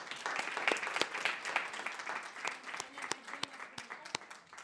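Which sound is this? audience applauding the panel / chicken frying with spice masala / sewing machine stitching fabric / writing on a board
audience applauding the panel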